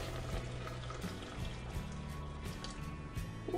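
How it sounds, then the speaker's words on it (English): Stock poured over vegetables in a soup pot for parsnip soup, giving a quiet sizzling, trickling liquid sound that runs on steadily without pauses. "And then we add in the stock covering the vegetables."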